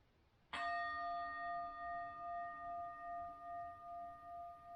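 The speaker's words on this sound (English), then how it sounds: "You now know that that's the bell to come out of the posture." A meditation bell rung once to signal the end of a posture, a bright metallic strike that rings on with a long, slowly pulsing sustain, clear and alone in a quiet room.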